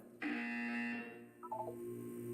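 Test chamber chime from the video game Portal 2: a bright electronic tone with stacked harmonics sustains for about a second, followed by a short run of quick descending beeps over a steady low background hum.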